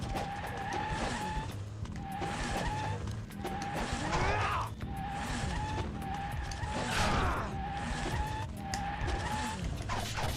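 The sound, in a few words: motorcycles in video game Ninja Gaiden Sigma Black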